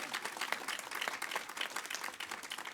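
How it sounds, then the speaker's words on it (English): A crowd at a press conference applauds steadily, dense overlapping claps filling the room at a fairly even level throughout. "Let's give them a big round of applause."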